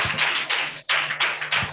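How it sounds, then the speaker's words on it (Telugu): Children at a vacation Bible school gathering clap in quick bursts of brisk, close, crowded applause. There is a brief pause between two rounds. "క్లాప్స్ కొట్టండి."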